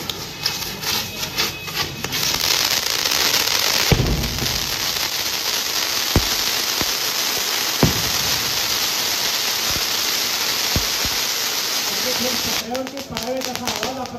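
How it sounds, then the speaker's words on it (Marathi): Firecrackers burst around the Mahadev temple grounds in Ichalkaranji during a Tripurari Purnima lamp festival: several sharp, scattered pops stand out over a continuous loud hiss and crowd noise, with a voice speaking. "असा आवाज आपण ऐकलेला आहे फटाक्यांचा"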